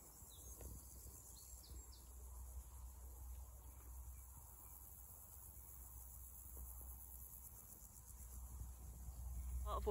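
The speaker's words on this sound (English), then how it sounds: "You can probably hear grasshoppers striating in the background" Grasshoppers stridulating in a hay meadow on a nature reserve, a faint steady high-pitched buzzing chorus in the background of a quiet outdoor scene, with a soft voice briefly near the end.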